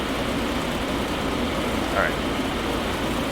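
A Cessna 172 piston engine in a flight simulator game drones steadily and evenly at close range, a constant loud hum throughout, with a brief spoken word partway through.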